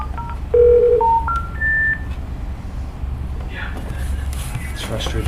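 A series of telephone dialing tones beeps out in quick, stepped succession, each a clear steady tone, over a low room hum at a planning committee meeting, followed by faint background murmuring and shuffling.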